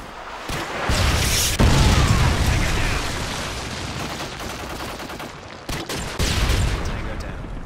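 Gunfire bursts and booming explosions from an incoming missile strike in a video game, with sharp loud blasts near 0.5, 1.6 and 5.7 seconds over a dense rumble of battle noise.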